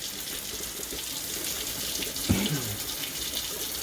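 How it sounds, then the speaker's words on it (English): Hot water runs steadily from a kitchen tap into a sink as hamburger fat is poured down the drain, a continuous close splashing rush with a brief low gurgle partway through. "Let all that hamburger fat right down the drain with all that hot water."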